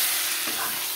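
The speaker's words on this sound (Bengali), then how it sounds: "মশলা একসাথে কষিয়ে নেব" Potatoes frying with spices in a pan, a steady close sizzle with a faint stirring scrape partway through and no speech.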